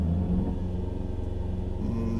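A stock-tune 2022–2023 Ford Maverick engine held under brake torque, giving a steady, loud, low rumbling drone with a sustained revving hum and no voices.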